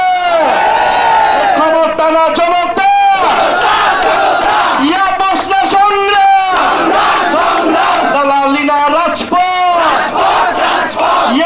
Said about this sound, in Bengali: বাগেরহাটবাসী আসবে স্লোগান হবে